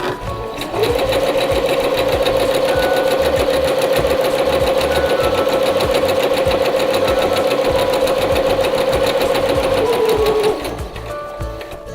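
A sewing machine runs steadily forward through fabric while gathers are sewn, a loud continuous whirring hum with no reverse stitching, lasting about ten seconds before stopping.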